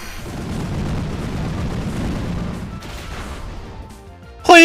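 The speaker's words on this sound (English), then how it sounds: "Explosion." An Explosion move goes off in a Pokémon Moon battle, a long rumbling low blast roaring steadily for several seconds, then fading before a sharp bright game sound cuts in at the end.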